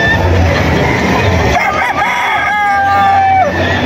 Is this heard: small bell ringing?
no